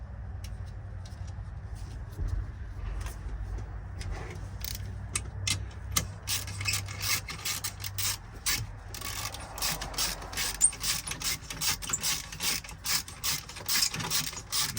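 A ratchet clicks in short bursts while loosening the steering wheel bolt on a Kenworth T680 truck cab, close up, over a steady low engine or fan hum with occasional clanks of the tool.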